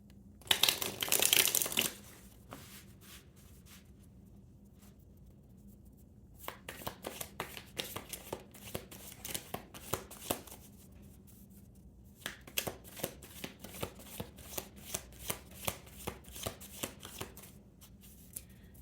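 Tarot cards are shuffled in the hands: a quick dense riffle at the start, then a pause, then long runs of soft, rhythmic slapping and flicking as the deck is cut and mixed, close and fairly quiet.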